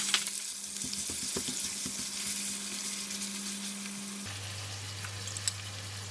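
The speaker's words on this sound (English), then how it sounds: "garlic is almost brown and I'm going to put in the minced pork." Minced pork sizzles steadily in hot oil with browned garlic, a dense continuous frying hiss with a few stirring clatters near the start and a faint steady hum underneath, no voices.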